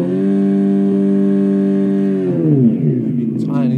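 An electric bike's sound generation module imitates a sports motorbike: a loud, steady synthetic engine drone holds, then drops in pitch as the rev falls away, with a voice talking briefly at the end.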